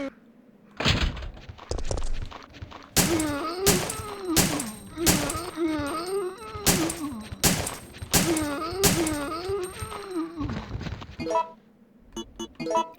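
Gunfire rings out in the survival-horror video game Resident Evil 3: Nemesis as a run of sharp, loud shots cracks in an irregular rhythm. Groans or voice-like sounds rise between the bursts.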